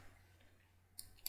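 A mouse button clicks twice, softly and close, while creating an AWS access key for Terraform command line access; the clicks are separated by a short pause over a faint background hiss.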